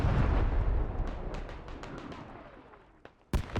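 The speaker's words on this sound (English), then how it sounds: "I thought it was enemy arty for a second." Military game artillery from hell cannon rounds, a heavy booming roll that decays slowly, followed near the end by a couple of sharp, close blasts.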